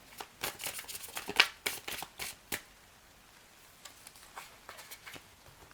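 Oracle cards shuffled and drawn in a short flurry of papery riffles and flicks, fairly close and quiet, fading into a few soft single card snaps near the end.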